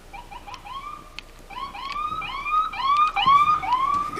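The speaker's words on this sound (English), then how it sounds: "There's a ambulance right here" An ambulance siren in traffic, heard from inside a car, repeats rising wails that grow steadily louder as it approaches.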